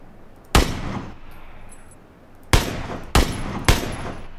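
Four sharp gunshots ring out in the video game PlayerUnknown's Battlegrounds on the Erangel map, one alone, then three in quick succession, each loud and close with a short echoing tail.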